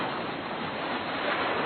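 Ocean waves roll in a steady, muffled wash of surf noise, continuous and even with no voices over it.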